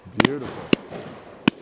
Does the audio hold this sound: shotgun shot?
yes